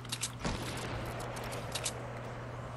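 Gunfire in Fortnite sounds as a few sharp shots and short rattling bursts over a steady low hum, moderately loud with gaps between volleys.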